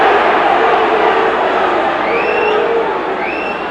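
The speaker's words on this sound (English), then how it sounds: "And again the crowd incensed." A football stadium crowd at a 1990 Leeds United versus Hull City match roars loudly and continuously in angry protest, with whistles and jeers rising over the dense wall of noise.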